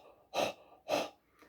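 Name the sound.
imitated dog panting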